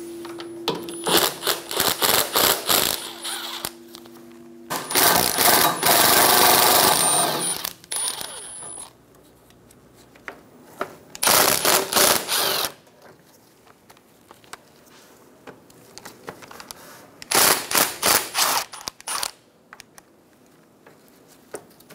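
Four 8mm bolts being loosened and pulled from a plastic guard on a 2012-2020 Chevrolet Sonic during AC condenser work, giving repeated bursts of close metallic clicking, ratcheting and rattling separated by quieter pauses.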